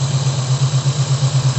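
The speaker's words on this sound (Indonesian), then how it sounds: "nyetelnya ini sampai mesin agak goyang seperti mau mati, terus dikendorkan nyari putaran yang paling enak" A Toyota Corona carburetor engine idling during idle adjustment, a close, steady low rumble with a gently pulsing, slightly uneven beat, heard alone.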